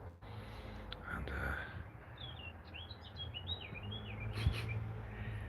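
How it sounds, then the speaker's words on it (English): A garden bird sings a faint, quick run of chirping notes in the open air, heard at a distance over steady outdoor background noise. "Hear that bird? Oh my goodness. He's beautiful."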